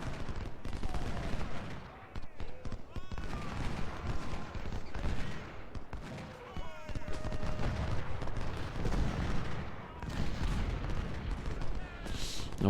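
Cannon batteries fire in the Civil War strategy game Ultimate General: Civil War, a steady stream of distant booms and musket crackle rolling on throughout, with someone talking over the battle.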